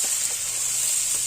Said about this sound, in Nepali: एकैछिन भुट्ने